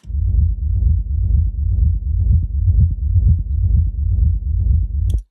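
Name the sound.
techno kick drum layered with bass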